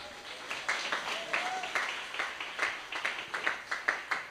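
A church congregation claps hands together in a steady rhythmic beat, many hands at once, moderately distant in a large room.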